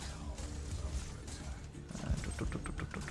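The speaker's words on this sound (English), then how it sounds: "Just hear the wolves howling stuff" Wolves howl and roar in the Paragon video game, layered over continuous game action with hoof-like clopping and bursts of effects; the cries are moderately loud and sustained throughout.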